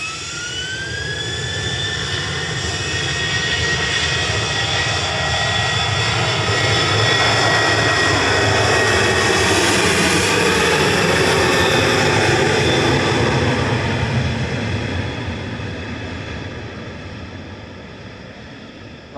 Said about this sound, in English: Ryanair lined up and ready to go next to Copenhagen